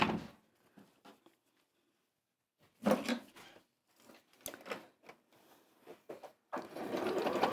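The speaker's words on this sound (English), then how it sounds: "I'm just going to sew over the ends of those to hold them in place, so I can take the pins out" A sewing machine stitching over the ends of fabric strips, several short quiet runs of rapid mechanical needle clatter separated by pauses and small handling noises, ending in a longer continuous stretch.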